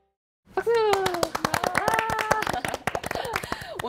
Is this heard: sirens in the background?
no